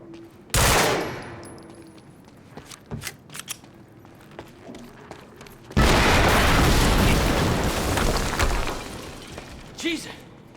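Video game Quantum Break combat: a sharp blast rings out, followed by scattered gunshots, then a long, loud roaring explosion that sustains for several seconds before fading, with a few late pops.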